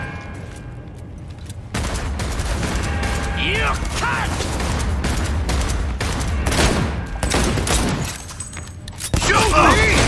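Loud bursts of automatic gunfire from the game Cyberpunk 2077 hammer in irregular volleys with mechanical clatter and booming thuds, while voices shout over the shooting.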